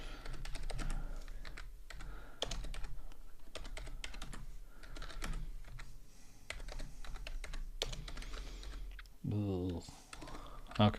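Steady clatter of keys on a computer keyboard, close and continuous in rapid irregular bursts, with a person murmuring now and then and a brief spoken remark near the end.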